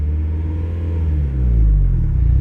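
A 2019 Mazda Miata accelerates at full throttle, its engine a steady, close low rumble that deepens and grows louder partway through.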